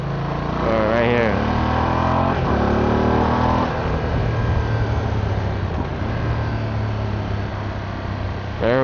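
Ducati V2S motorcycle on winding mountain roads, engine revving and rising in pitch as it accelerates to pass a car, with rushing wind noise steady throughout.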